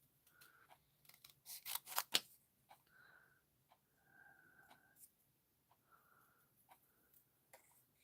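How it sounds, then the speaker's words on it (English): Scissors snip out an embossed paper heart in a quiet room: a burst of sharp, close cuts builds up, then gives way to softer, scattered snips and slicing strokes. "I'm going to take my heart here and go ahead and trim that out"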